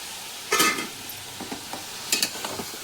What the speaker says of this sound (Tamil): இந்த பக்கம் முட்டைக்கோஸ் வெந்துட்டுருக்கு இந்த பக்கம் பருப்பும் வெந்துட்டுருக்கு